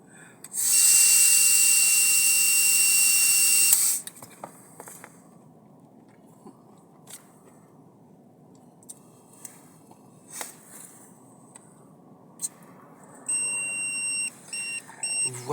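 A long steady blow into a car's ignition interlock breathalyzer produces a loud continuous tone for about three seconds, followed by quiet handling noises and then a series of short electronic beeps near the end.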